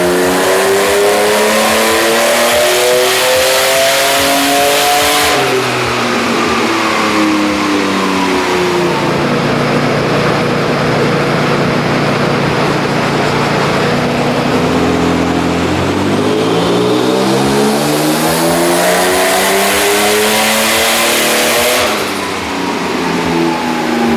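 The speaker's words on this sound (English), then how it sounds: "Encountering a bit of a missing issue when we add more boost, as you guys can probably hear in the video." Turbocharged BMW M50B30 engine in an E36 on a dyno, revving loud and near through rising and falling pulls and misfiring under boost, with its roaring pitch sweeping up and down and no talking.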